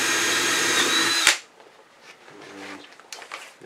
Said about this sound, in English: brad point drill bit so it centers in that little hole.